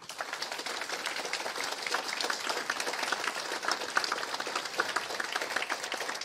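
At a university graduation ceremony, the audience gives the professors sustained applause, a dense and even patter of clapping that fills the hall throughout.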